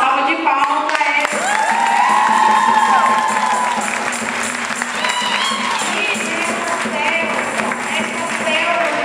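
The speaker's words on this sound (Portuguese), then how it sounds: "Então nós vamos dar uma salva de palmas para eles." Parish gathering audience gives the catechists a steady round of clapping and cheering, mixed with some shouts and children's voices, lasting throughout at a fairly full level.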